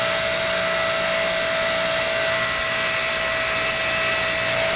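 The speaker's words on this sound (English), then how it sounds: "slowly advance the roller disc approximately 2 inches past the rim flange and lower the wheel until the roller bottoms on the post" A tire changer's roller disc bead breaker pushes past the rim flange to loosen a tire bead, producing a continuous, loud, even mechanical whir and grind with no pauses or talk.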